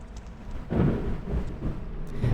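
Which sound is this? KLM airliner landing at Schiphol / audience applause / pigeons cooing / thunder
thunder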